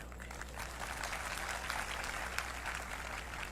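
An audience at a speech claps in a soft, distant patter of many hands, steady throughout with a low hum underneath.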